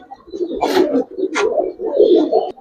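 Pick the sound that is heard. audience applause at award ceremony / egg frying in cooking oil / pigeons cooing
pigeons cooing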